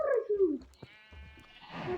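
A sheep in a video game gives a loud, close bleat that wavers downward. Faint game sounds and a thin, high tone follow.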